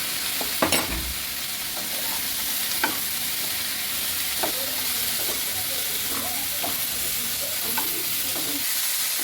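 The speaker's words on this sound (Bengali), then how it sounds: "এবার আমি যে চিকেনটা নিয়েছি, চিকেনটা ওর মধ্যে দিয়ে দেবো। বন্ধুরা, ওটা ভাজা হচ্ছে" Chicken and vegetables sprinkled with ground black pepper fry in a pan on a gas stove for chicken soup, a steady close sizzle broken by scattered scrapes and clinks of stirring.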